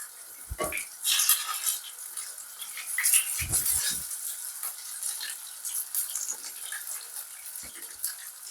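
Hash browns fry in hot oil with a soft, steady sizzle, broken by a few brief clinks and scrapes of a utensil against the pan; no one speaks.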